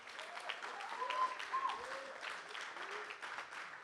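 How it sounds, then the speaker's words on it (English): Audience applause at a comedy roast, a steady spread of clapping lasting a few seconds at moderate level, with a few faint voices and whoops mixed in. "Let's give them a round of applause, please."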